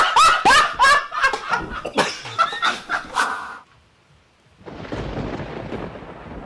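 Thunder rumbles as storm clouds gather before rain, coming in as a low, steady roll in the second half after a stretch of loud voices and a brief quiet gap.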